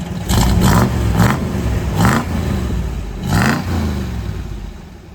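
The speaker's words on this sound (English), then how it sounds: "give us a little rev" A 1970 Dodge Challenger T/A V8 revs up several times in short bursts, each blip rising with a throaty roar over a steady idle, close and loud.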